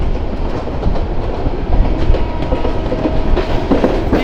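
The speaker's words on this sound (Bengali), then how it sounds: "ট্রেন আস্তে আস্তে যাচ্ছে" Haor Express passenger train in Bangladesh rolling slowly along the track through a long curve, a steady close rumble with soft rhythmic clacking of wheels over rail joints, loud and continuous with no voices.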